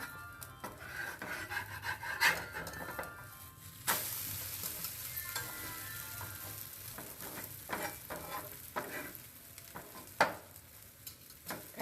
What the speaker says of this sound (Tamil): இப்போ பாருங்கள் இறா ஆம்லேட் ஊற்றிருக்கேன்